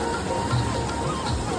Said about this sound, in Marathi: वरून पाणी पडतं